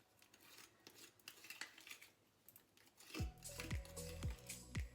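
Coloured macaron batter stirred in a bowl, at first a faint soft rustle, then a utensil scraping and clinking against the bowl in louder, rhythmic strokes over the last two seconds.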